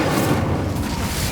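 Dense, roaring whoosh of an Incendio fire spell in Hogwarts Legacy, a steady blast of flame sustained loud and close through a short moment.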